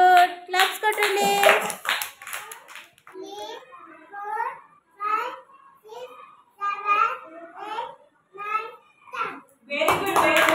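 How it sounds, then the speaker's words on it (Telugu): Small children at an anganwadi clapping in bursts at the start and end, mixed with children's voices and someone speaking between the rounds of applause. "క్లాప్స్ కొట్టండి."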